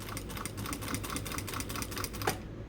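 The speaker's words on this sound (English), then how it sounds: "So each of the triangular edges, I'm going to do a top stitch" A sewing machine top-stitches the triangular edges of a fabric rolled handle, a steady rapid run of stitching close by with no pauses or voices.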